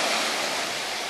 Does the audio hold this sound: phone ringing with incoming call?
no